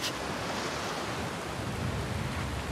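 Continuous rolling ocean waves and surf with a windy, hissing texture in The Last of Us Part II near a coastal shipwreck, steady and close with no voices.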